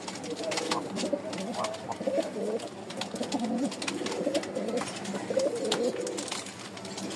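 Several Giribaz pigeons coo in overlapping low, throaty calls that repeat steadily and close by, with faint background noise and occasional rustling.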